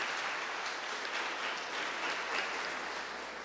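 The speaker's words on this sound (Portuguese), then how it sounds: "E dê uma bela salva de palmas para o Senhor Jesus." A church congregation at a Sunday service claps continuously in a steady, dense round of applause that fades slightly at the end.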